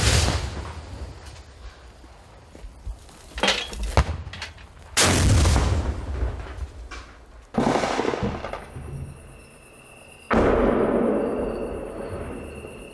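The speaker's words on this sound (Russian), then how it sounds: "Постріл!" Gunfire on the Donbas front line, heard as several loud sharp cracks and booms at irregular intervals, some with long ringing tails, against a constant outdoor background with no talking.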